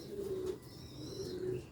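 Soft, low cooing from rooftop pigeons of an original Sialkoti breed, two drawn-out calls separated by a short pause, fairly quiet and close with no talking.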